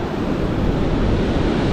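Strong, rough sea waves surge around a small fishing boat out on open water, a dense continuous wash and roar with wind mixed in, loud and close with no voices.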